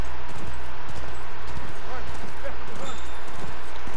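Rhythmic clip-clop of galloping horse hooves in The Last of Us runs steadily under a constant low engine-like hum, with speech murmuring faintly beneath.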